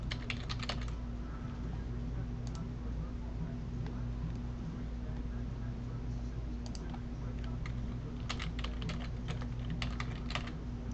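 Keystrokes on a computer keyboard while a password is entered for MySQL, heard as scattered bursts of quick clicks over a steady low hum.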